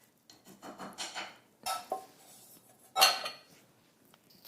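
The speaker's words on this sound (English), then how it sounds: "So I'm just going to add that and then incorporate it by folding" Beaten egg whites gently folded into waffle batter in a bowl, giving soft scraping and rubbing strokes against the bowl in short bursts, with a few louder clinks of the utensil on the rim and no talk.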